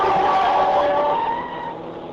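A car drives through a city intersection against the light in an old radio drama, engine and tyre noise loud and close, then fading slightly as it moves past, with no talk over it.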